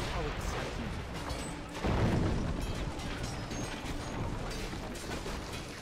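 Mortars firing in the Empire Earth III strategy game: dense booming artillery blasts and crashing impacts, loudest near the two-second mark, over continuous battle noise.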